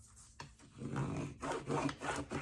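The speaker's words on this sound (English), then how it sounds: "Get my bone folder and get a good rub on here." A bone folder is rubbed firmly across paper on a sewn junk journal cover, giving several short dry scraping strokes, close and fairly soft, with no talk.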